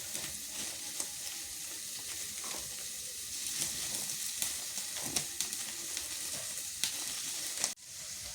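Eggplant fries in a pan over a village cooking fire in Bangladesh, a continuous close sizzle with stirring scrapes and small pops, ending in a brief thump.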